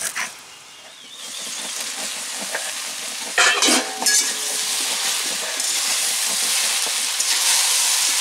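Chopped banana stem frying in a pan, a quiet start that builds to a steady sizzle with scraping stirs and a few sharp clatters partway through.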